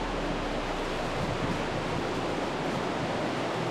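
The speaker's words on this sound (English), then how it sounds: "It's a little waterfall." Water running steadily from a small waterfall in a creek on Palm Island, a continuous broadband rush with no talking.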